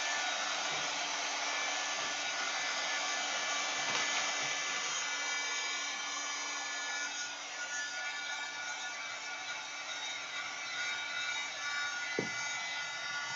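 A hair dryer blows steadily over a craft project decorated with washi tape, a loud continuous whirring hiss lasting throughout, close to the listener, with a brief soft knock near the end and no talking.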